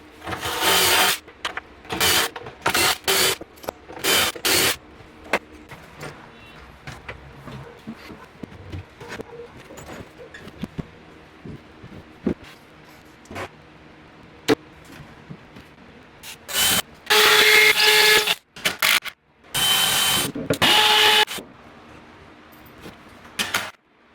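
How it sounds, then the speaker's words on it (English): A power drill bores rows of adjustable shelf peg holes into a garage cabinet, short loud whirring bursts separated by quiet pauses, a few longer grinding runs near the end. "drill the adjustable peg holes in the back and the front."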